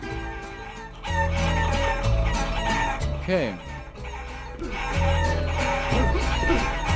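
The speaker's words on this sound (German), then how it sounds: "Huhn, rein mit dir." Chickens clucking and crowing in the video game Guacamelee!, repeated bursts over background game music, with someone briefly speaking.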